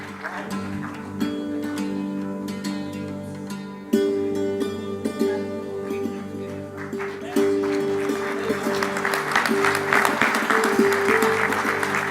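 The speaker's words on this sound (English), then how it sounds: "A huge round of applause for Mr. Chandrasekaran, winner of AIMA JRD Tata Corporate Leadership Award 2016." Applause fills the hall at a corporate leadership award ceremony, running steadily beneath sustained background music and building louder toward the end, with brief amplified voice fragments over it.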